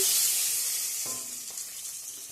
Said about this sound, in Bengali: ডিমটাও ভাজা হয়ে গেছে।